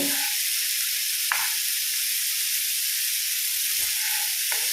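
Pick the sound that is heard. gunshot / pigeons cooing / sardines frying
sardines frying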